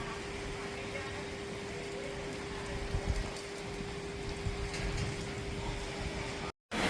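Heavy morning rain pours down outdoors during a storm, a continuous dense hiss with spattering drops on surfaces, steady and fairly loud throughout, briefly cutting out at the very end.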